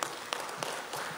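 Audience applause at a ceremony where Indigenous delegates hand symbols to Evo Morales at Bolivia's Casa Grande del Pueblo; steady, fairly faint clapping from a crowd fills the short moment, with a few louder bursts.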